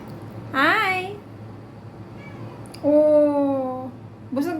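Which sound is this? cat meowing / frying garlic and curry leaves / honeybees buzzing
cat meowing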